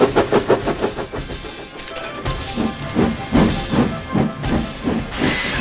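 A toy steam engine hisses in repeated rhythmic bursts of steam as it moves off, loud and close, with no voices.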